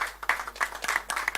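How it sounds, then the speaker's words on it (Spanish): Scattered applause from a small group at a fisheries committee session, quick claps coming in uneven bursts for just over a second, moderately close and fairly quiet. "Este aplauso"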